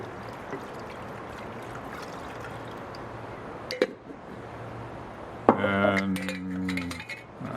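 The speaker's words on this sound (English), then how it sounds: "You just, to treat them, you just pour the alcohol in." Alcohol pours into a quart jar with a brief clink of glass, then a gurgling stream of liquid filling it, close and clear over quiet room noise.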